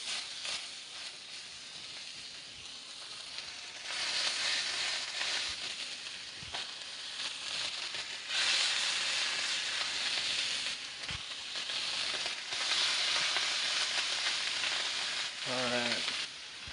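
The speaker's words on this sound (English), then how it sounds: "we're just going to sear these up." Sous vide lamb loin chops sear in a hot pan, a steady loud sizzle and crackle running throughout with brief bursts of spattering, close and continuous.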